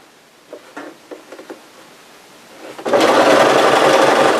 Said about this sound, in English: I like to double back tack it.